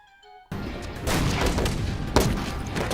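A dense burst of gunfire erupts in a war movie scene, a loud continuous volley of rapid shots with a sharper crack near the end, following a brief quiet musical tone.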